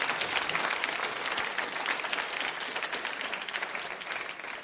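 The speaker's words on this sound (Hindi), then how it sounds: "उनके सम्मान में बजाइए तालियां जोरदार तरीके से आप।" Sustained audience applause at a Hindi school quiz show, a dense, steady clatter of many hands clapping, loud and close, continuing for several seconds with no speech over it.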